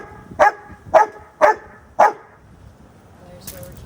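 A dog gives four sharp, evenly spaced barks close by, each a short loud burst, followed by quiet with a faint whimper or small sound near the end.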